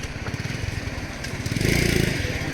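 A fishing boat's outboard motor runs close by with a rapid, chugging putter that grows slightly louder toward the end.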